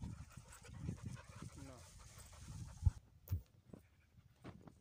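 Dogs out on a hillside walk near a village pant softly in quick, breathy bursts close by, with someone speaking over them and a short word from a voice.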